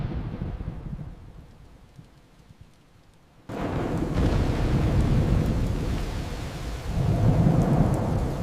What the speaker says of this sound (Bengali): ঝড়টা আজ খুব ভয়ঙ্কর লাগছে